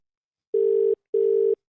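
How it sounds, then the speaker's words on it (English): Two long, steady electronic ringing tones on a phone call, separated by a short gap, clean and loud against silence as the call waits to connect. "All right, it's ringing."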